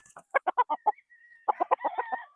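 A gamecock stag on a game farm gives a run of loud, close clucks, a brief pause, then a strained crow followed by more choppy clucking.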